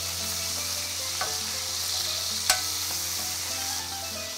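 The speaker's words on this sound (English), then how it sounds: "Cooking up my bacon." Bacon fries in a pan with a constant close sizzle and crackle, a few soft clicks and one sharp tap of a utensil against the pan.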